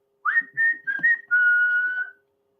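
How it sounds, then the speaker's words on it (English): Strikeout whistle sound effect on a Yankees–Red Sox baseball stream: a clear, isolated whistled phrase of several short rising notes followed by one long held tone, fairly loud against silence. "we play the strikeout whistle"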